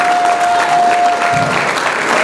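Audience at a college donation presentation applauds steadily, a dense wash of clapping filling the room without letup.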